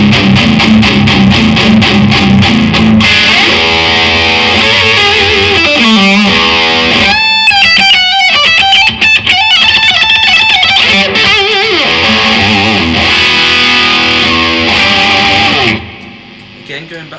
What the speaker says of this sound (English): voicing 2 on overdrive. This will send you into a very modern sound